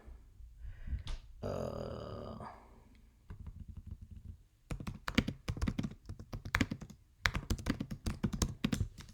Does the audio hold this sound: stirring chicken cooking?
no